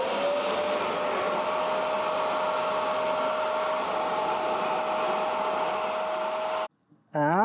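A loud vacuum whines and roars steadily up close for several seconds cleaning a BMW 320d's carpets, then cuts off abruptly, followed by a short tonal squeak.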